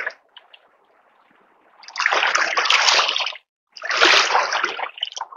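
Water pours into an AquaBLAST 20L bag, filling it halfway in two loud rushing, splashing bursts separated by a brief pause, with faint sloshing before and after.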